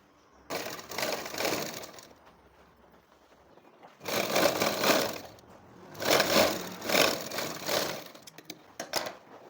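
Close sewing machine stitching a seam on a garment, running in bursts: one early run, a pause, then several longer loud whirring runs with brief stops between them.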